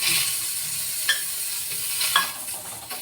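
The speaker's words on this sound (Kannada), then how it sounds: "ಎಣ್ಣೆ ಹಾಕ್ಕೊಂಡು ಹುರ್ಕೋಬೇಕ್ರಿ ಹಿಂಗೆ ಸ್ವಲ್ಪ ಮ್ಯಾಲಿನ ಭಾಗ ಎಲ್ಲ ಫ್ರೈ ಆಗಬೇಕು" Bitter gourd fries in oil with a loud continuous sizzle, broken by a few brief scrapes of a spatula stirring the pan.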